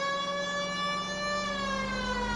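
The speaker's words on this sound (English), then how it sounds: "So they want me to use sirens every time I get in the car." A police car siren from the video game L.A. Noire wails as a steady, loud, sustained electronic tone with a slight downward drift, heard up close and alone without any talk.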